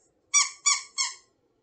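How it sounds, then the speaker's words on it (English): A squeaky toy monkey is squeezed three times in quick succession, each a short, bright, close squeak standing alone in silence. "Squeaky monkey."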